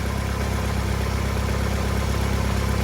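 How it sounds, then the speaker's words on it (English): A Ford Escape running at idle with its AC compressor cycling during a recharge: a steady, even engine hum, loud and close, with no talking. "The compressor just kicked back off."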